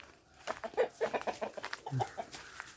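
Hens clucking as they peck at taro plants on a farm, several soft close clucks and short calls scattered through the moment.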